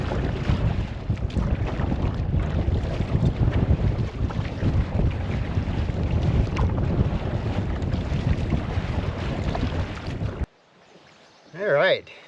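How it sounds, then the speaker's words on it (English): A solo canoeist paddles across a lake into strong wind, heavy wind rumble and buffeting on the microphone with water noise throughout, cutting out near the end before a brief voice. "paddle into the wind for a little bit"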